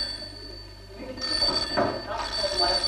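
An old landline telephone bell rings with a continuous metallic trill in an indoor scene from an old Marathi film, under a soundtrack with a sustained musical tone.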